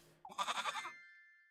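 A goat in the video game Little Goody Two Shoes gives a single wavering, quavering bleat, close and clear, trailing off into a faint ringing tone.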